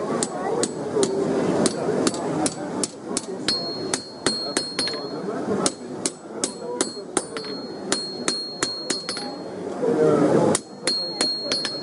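A blacksmith hammers a blade heated to about 900 degrees, straightening a small bow in it, at a forge in Metz. Sharp metallic strikes land close and loud in quick irregular runs, with brief pauses between bursts and no talk.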